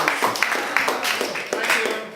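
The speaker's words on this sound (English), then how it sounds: "Can we have a round of applause for Mr." An art-centre audience welcomes a guest with moderate applause. Brisk clapping in irregular bursts continues steadily from start to finish.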